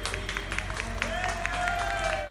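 Onlookers applaud as workers reach the ground after a firefighters' vertical rescue from a stuck scaffold, a steady wash of clapping from a crowd, fairly loud and continuous.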